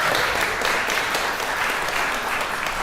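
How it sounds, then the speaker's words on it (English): A room full of people at a Sunday service gives warm, dense applause that holds steady and loud for the whole short stretch, with no break. "we would welcome that first story with rapturous applause"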